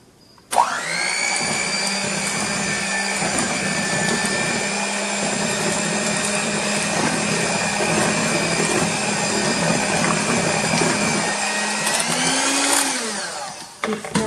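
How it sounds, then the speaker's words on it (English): An electric mixer blends sour cream into cheesecake batter with a loud, steady high-pitched whir that holds for about twelve seconds before winding down. "So I'm adding the sour cream. And again, I'm going to blend it in."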